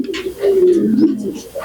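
A cotton pigeon, an old bird of a pigeon keeper, gives a close, loud drawn-out coo with a rising and falling tone, lasting about a second amid a little background noise.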